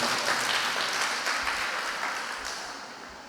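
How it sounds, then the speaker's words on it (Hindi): Audience applause at a religious sermon by a Jain nun, a dense wash of many hands clapping loudly and steadily, slowly fading toward the end with no speech over it. "ताली जोर से बजा करके बोले बड़ा ही महत्व है।"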